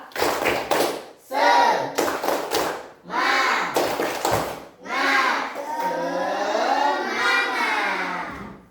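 A classroom group performs a rhythmic hand-clapping routine, bursts of sharp claps in patterned sets broken by short gaps, with children's voices chanting between and over the claps.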